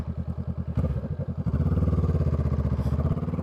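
A Honda Rebel 500 motorcycle idles with a rapid, throbbing engine pulse close by, then its revs rise briefly and it settles back into a steady, chugging rhythm.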